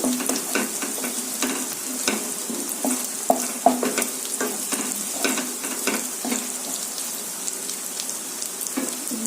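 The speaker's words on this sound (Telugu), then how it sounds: "ఎగ్ కొంచెం ఫ్రై అవ్వాలి" Egg frying in a hot pan for egg rice, a steady broadband sizzle with scattered crackles and occasional scraping stir sounds, close and fairly loud throughout with no voices.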